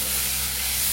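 Spring onion greens sauté with vegetables in a pan for a monsoon soup, giving a steady, loud, close hiss of sizzling over one brief, unbroken moment.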